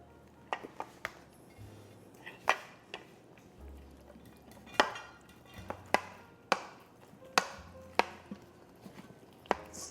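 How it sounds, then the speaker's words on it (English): Buckwheat stuffing is scooped and pressed into a baking dish, with a series of sharp knocks and scrapes of a utensil against the dish, spaced irregularly, close and fairly quiet, with low hum between them. "So now we're just going to put it in our baking dish here."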